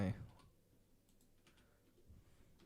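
A few soft, scattered keystrokes tap on a computer keyboard during a coding session, faint and sparse after an initial bump, in an otherwise quiet room.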